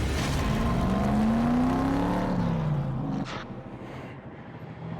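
A white car driving aggressively through an intersection after running a red light, its engine rising in pitch as it accelerates, then fading away into quieter traffic.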